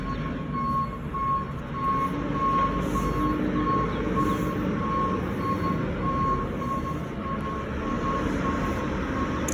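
Garbage truck backing in on a residential street, its reversing beeper sounding steadily and repeatedly over a loud, continuous diesel engine rumble at close range.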